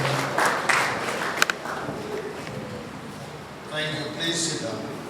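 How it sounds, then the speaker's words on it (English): An audience at a bar association opening ceremony applauds in a moderate, scattered wave of clapping, heard under a speaker's voice. "Please, a round of applause"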